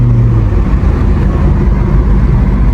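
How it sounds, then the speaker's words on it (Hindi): A steady, loud, low engine drone with a throaty exhaust rumble from a modified Changan Alsvin car, continuous throughout. "साउंड थोड़ा सा अब आ रहा है एग्जॉस्ट का"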